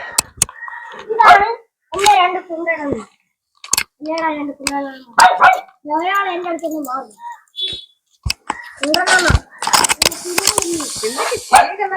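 Small puppies yip and whine in a series of high, squeaky bursts, with scattered clicking and rattling noises in between.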